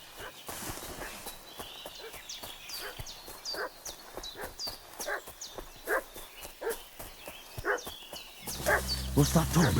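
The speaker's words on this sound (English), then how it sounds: "What's that dog making such a fuss about?" A dog barks repeatedly at a distance in Kingdom Come Deliverance II, the sharp yaps scattered over an outdoor ambience with hoofbeats or footsteps, ending in a louder low rumble.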